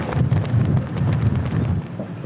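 Strong wind at sea buffeting a sailboat and the microphone, loud gusting rumble rising and easing over a couple of seconds, no speech.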